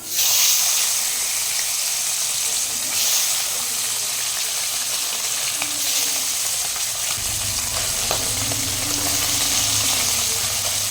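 The last pieces of pomfret frying in hot oil in a wok, a continuous close sizzle that swells as they go in, then settles into a steady crackle with a low rumble underneath, no voices.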